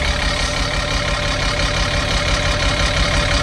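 Skoolie school bus diesel engine running after starting, a loud steady idling rumble with a faint knocking texture, continuous and close with no talk over it.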